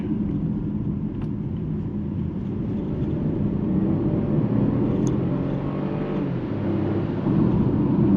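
Steady low engine and exhaust rumble from a MINI Countryman plug-in hybrid (165 kW) accelerating on a country road, heard from inside with a gradual swell in loudness and no talk.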